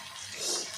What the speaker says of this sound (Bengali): একটু গরম জল দিয়ে দেবো।